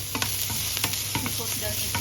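Onions browning in a frying pan give a steady sizzle with scattered crackles and pops, close and fairly loud, with no voices.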